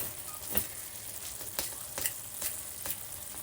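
Vegetables sizzle steadily in a hot pan as ground peanut powder is added, with a soft continuous fry broken by a few sharp crackling bursts, close and moderately quiet.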